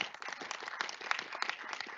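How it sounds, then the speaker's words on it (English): An audience at a school celebration honoring Cesar Chavez and Dolores Huerta breaks into applause, dense rapid clapping from many hands filling the moment, steady and fairly faint at a distance. "Give me an applause."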